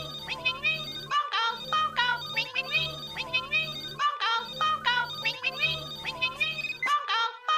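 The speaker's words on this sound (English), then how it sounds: "It's time for Ring Ring Ring. Phone call." A telephone ringing effect on a Pokémon podcast: a bright, busy electronic melody with warbling, sliding tones that loops continuously and fairly loud, with no speech over it.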